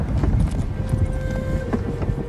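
A horse gallops in the video game Ghost of Tsushima: Director's Cut on PS5, with rapid rhythmic hoofbeats against wind and ambient rush. A faint steady tone runs through the game audio, and no one talks.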